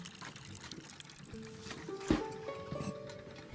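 Watering a plant in the video game Botany Manor: a short, soft pour of liquid trickling into a pot, brief and quiet with a faint musical tone underneath.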